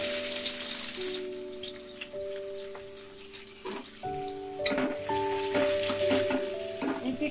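Chopped garlic and onion sizzle in hot oil with dried red chilli and cumin for an ivy gourd fry, a steady close crackling hiss broken by occasional stirring scrapes and clinks.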